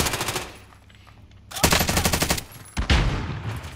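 Automatic gunfire in a first-person shooter video game, loud rapid machine-gun bursts in three stretches with a short lull between them.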